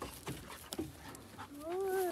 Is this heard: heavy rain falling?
no